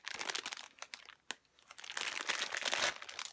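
Plastic packaging around a Kiibru squishy crinkling and tearing open, close and crisp, with bursts of rustling broken by a brief pause and then a sustained ripping crackle.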